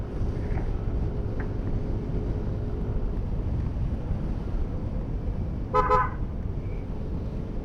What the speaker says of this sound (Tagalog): Narinig niyo ba yung busina kong nangaaway?